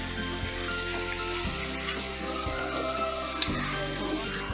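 Tomatoes frying in ginger garlic paste for a firewood-cooked chicken dum biryani, a steady broad sizzle with occasional stirring scrapes, close and continuous with no talking.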